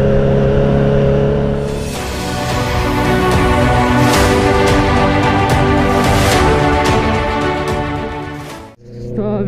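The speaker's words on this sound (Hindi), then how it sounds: "तो अभी अपन कर रहे हैं ऑफ रोडिंग सीबीआर पे, कच्चे रास्ते पे सीबीआर चल पाती है या नहीं" A Honda CBR650R motorcycle ridden off-road along a dirt farm track, its engine droning loudly and close with rising and falling revs before cutting out abruptly near the end.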